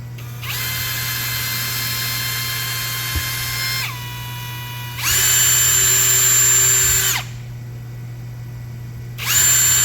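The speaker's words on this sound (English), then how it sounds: "I'm just going to pre-drill the hole so you can get an accurate idea here" A power drill whirs in steady bursts, pre-drilling three pilot holes in wood, spinning up and winding down three times with brief pauses between, close and loud, with no talking.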